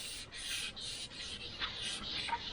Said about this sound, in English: So when you're sanding across it,